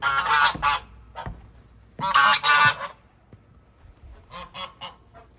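Geese honk in loud bursts outdoors, with a pause and then softer, more distant honks trailing off.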